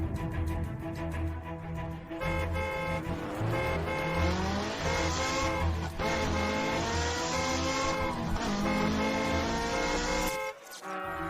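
An old car revving and driving hard, its engine note rising and falling as tires squeal loudly and continuously over several seconds, ending abruptly.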